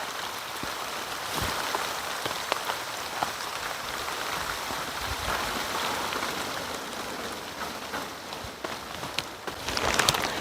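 Steady rain falls over a garden where seeds were just sown, a dense continuous patter with scattered louder drops, even and close throughout, with no voices.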